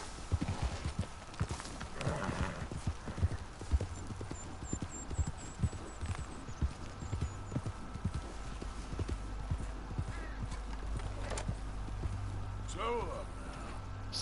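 A horse galloping in Red Dead Redemption 2, its hooves clip-clopping in a quick rhythm with a brief whinny, under game music and a voice talking.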